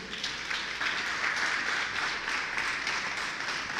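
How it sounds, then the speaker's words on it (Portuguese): A church congregation claps during a sermon, a continuous, fairly even patter of many hands at moderate loudness with slight rises and dips and no voices above it. "dá um aplauso a Jesus"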